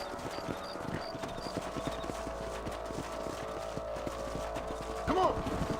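Horses' hooves clip-clop in Red Dead Redemption, a steady trotting rhythm running throughout at moderate volume, with a brief whinny-like burst near the end and game music and ambience underneath.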